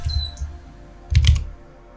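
Computer keyboard typing at a streaming setup, two quick bursts of clacking keystrokes close to the microphone, the second louder, with a quiet pause between and no talk.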